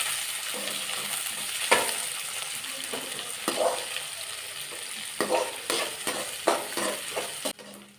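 Onions with garlic and chilli sauté in oil, a continuous sizzle punctuated by repeated scraping stirs of a spoon against the pan, nearby and moderately loud.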